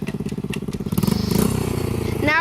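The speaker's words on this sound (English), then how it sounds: "See how fast my little dirt bike goes?" Small dirt bike engine running steadily close by, a buzzing motor rhythm throughout with a slight rise in pitch toward the end.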